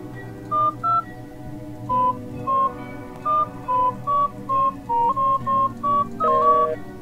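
A phone is dialed in a video game: a run of about a dozen evenly spaced keypad tones, loud and clear over a soft musical background.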